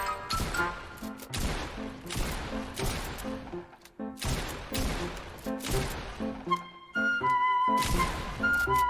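Gunfire in GTA 5 comes in repeated loud, sharp bursts with brief gaps and game sounds between them.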